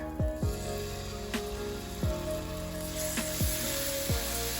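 Scampi sauce of butter and garlic sizzles in a pan with a steady, close frying hiss and a few brief tonal sweeps over it.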